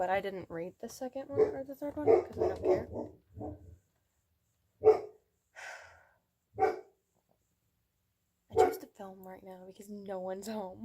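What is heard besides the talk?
dog barking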